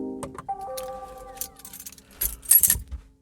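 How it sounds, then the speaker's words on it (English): A bunch of keys jingles and rattles close by inside a BMW i3, with a few clinks early on and a louder jangling flurry near the end, over a faint car hum. "Still got your keys. Now what am I going to do with the keys?"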